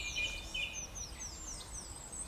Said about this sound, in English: gorgeous sounds of the dawn chorus